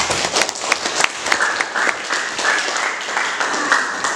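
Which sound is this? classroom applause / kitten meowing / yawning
classroom applause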